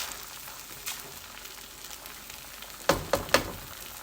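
Coca Cola chicken frying in a pan, a soft steady sizzle that sits quietly for a while before three sharp scraping clacks near the end, close with no talking.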